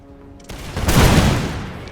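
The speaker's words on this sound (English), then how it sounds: "able to unleash devastating close range volleys" Close-range musket volley from massed infantry in the Napoleonic-era strategy game Imperial Splendour, Prussian campaign; a sudden loud crackling burst of many shots that swells and rolls for about a second before trailing off.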